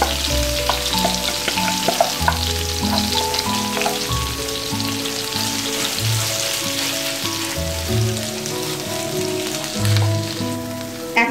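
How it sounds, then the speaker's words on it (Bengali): Grated carrots fry in butter for carrot halwa, sizzling steadily and loudly up close, with a utensil stirring and scraping the pan throughout. "গাজরটা এই বাটারের সাথে ভালো করে ভেজে নিতে হবে"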